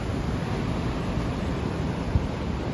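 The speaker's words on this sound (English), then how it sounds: "The waves are angry." Ocean waves crash at Carmel-by-the-Sea in a continuous dense roar of surf mixed with wind noise. The sound is loud and steady, with one brief thump near the end and no voices.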